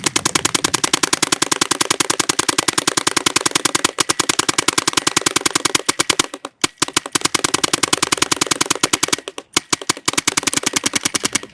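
A Dye DLS paintball gun fires in a fast, loud, machine-gun-like stream of rapid pops that keeps going, then stutters with uneven gaps and breaks up toward the end, close up and with no voices.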